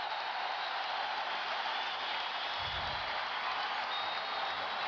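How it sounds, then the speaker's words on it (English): A packed basketball arena crowd during a 1988 Bulls vs. Lakers NBA game roars in a steady, dense wash of noise that holds constant throughout. "Listen to this crowd here."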